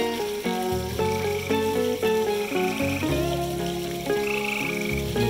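A toad croaks in strong, repeated pulses while a small child catches frogs outdoors. The calls are close and loud and hold a steady rhythm throughout.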